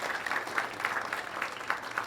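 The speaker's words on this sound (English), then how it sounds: "Would you please all stand and let us give you a round of applause." A standing audience at a college cybersecurity summit gives a round of applause, soft and somewhat distant, with a steady patter of many hands and individual claps just visible, no speech over it.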